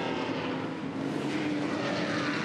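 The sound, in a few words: NASCAR engine of a muscle car racing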